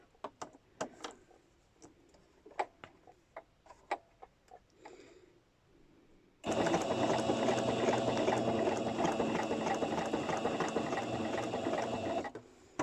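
Sewing machine running a straight stitch through a plastic bag: a few sparse clicks and taps first, then a steady loud mechanical whir that runs continuously for about six seconds before stopping.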